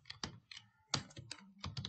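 Code typed on a computer keyboard in Android Studio, sounding as close, distinct keystrokes in short irregular bursts with brief pauses between them.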